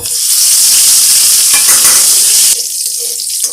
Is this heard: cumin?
yes